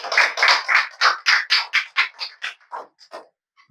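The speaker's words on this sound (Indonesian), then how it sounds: "Tepuk tangan untuk kelompoknya Anis." Classroom applause for a student group in an Islamic jurisprudence lesson, a burst of brisk clapping from several pupils that thins out and fades to a few last claps.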